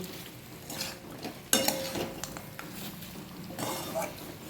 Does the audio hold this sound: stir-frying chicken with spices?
yes